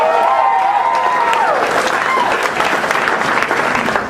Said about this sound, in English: Let's give a round of applause to the pleasure mechanics